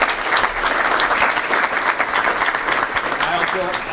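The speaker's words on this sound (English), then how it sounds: "Please, round of applause." Steady, dense applause from an audience, continuous clapping at full volume throughout with a faint murmur of voices beneath.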